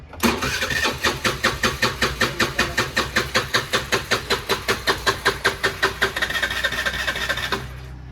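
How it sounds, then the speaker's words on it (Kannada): Motorbike engine turned over by its electric self-starter, a fast rhythmic cranking chug repeating for several seconds, loud and close, before cutting off abruptly. "ನೋಡೋಣ ಎಷ್ಟು ಸೆಲ್ಫ್ ಸ್ಟಾರ್ಟ್ ಆಗುತ್ತೆ ಅಂದ್ಬಿಟ್ಟು."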